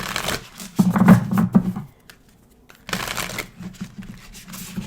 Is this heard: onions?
no